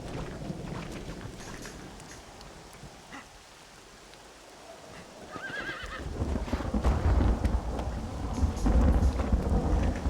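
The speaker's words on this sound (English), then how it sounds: "Looks like Carlos left us some horses" Horses whinny and clip-clop in the Red Dead Redemption video game amid rumbling thunder and rain, the neigh rising briefly mid-clip before louder, fuller game ambience swells in the second half.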